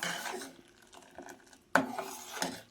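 Custard milk being stirred slowly over medium heat in a pot, giving soft intermittent scraping and clinking of a spoon against the metal, with a sharper knock midway and no talk.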